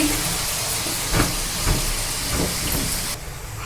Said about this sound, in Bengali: এবার আমি এটা তেলে দিয়ে দিচ্ছি তেলে চলে গেল আমার ছোলার কচুরি